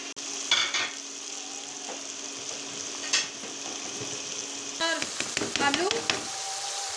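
Onions frying with red chili and turmeric in a pan, a soft steady sizzle that turns livelier as a spoon stirs and scrapes the pan near the end, with someone speaking briefly.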